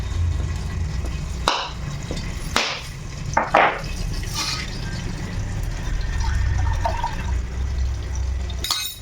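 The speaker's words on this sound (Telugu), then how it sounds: "ఇప్పుడు మనం కొబ్బరికాయని కొట్టుకుందాం" A coconut being cracked open at home while cooking, a few sharp knocks and cracks followed by liquid pouring and splashing into a vessel, close and fairly loud, with no talking.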